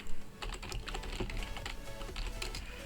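Rapid, uneven clicking of keys on a computer keyboard as a chat message is typed, close and fairly quiet, in irregular bursts with no talk.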